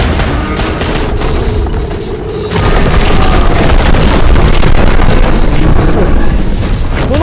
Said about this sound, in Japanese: このショットガン爆発するんだよね。